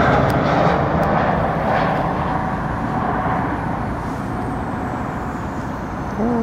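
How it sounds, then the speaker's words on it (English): Aircraft passing near Heathrow airport, a broad rumbling engine roar that slowly fades as it moves away, with some faint traffic-like noise underneath. "Uh-oh, we got another plane."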